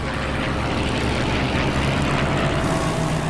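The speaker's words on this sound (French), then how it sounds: "Dans un vrombissement de moteur, le nouveau chasseur suit le Zéro aisément." A Grumman F6F Hellcat fighter's 2,000-horsepower piston engine roars in a loud, continuous, dense drone that holds steady throughout without a break.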